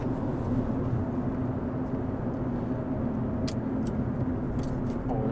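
Fiat 500 engine slowing as the accelerator is released, a steady low rumble with broadband road and wind noise that holds evenly throughout, no talk.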